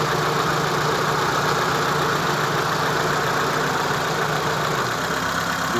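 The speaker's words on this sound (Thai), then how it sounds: "อันนี้พัดลมของเครื่องยนต์ นะครับ อันนี้พัดลม แอร์ ผมเปิดแอร์" A Mitsubishi E-Car with a 4G15 engine idles while its radiator and air-conditioning cooling fans run, making a loud, steady, even whir with no voices.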